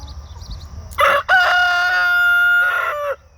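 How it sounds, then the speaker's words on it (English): A single large rooster near a high tunnel garden lets out one loud, close crow, a long drawn-out call following a short sharp lead-in, with faint farm ambience around it. "So there's our one and only big guy rooster"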